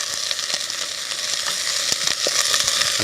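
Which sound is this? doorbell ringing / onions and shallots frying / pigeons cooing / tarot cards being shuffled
onions and shallots frying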